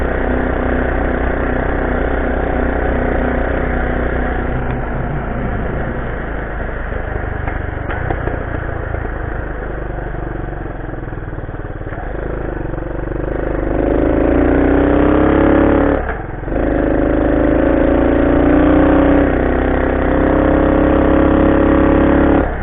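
A small single-cylinder Honda CT90 motorcycle runs steadily on a test ride, the engine buzzing close and loud, then revving harder with rising pitch, briefly dropping off before pulling strongly again.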